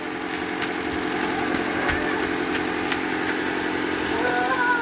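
A 2014 Toyota Altis engine idles with a steady, continuous drone, close and moderately loud; it runs rough from a misfire, with a faint irregular unevenness in the hum and no talking.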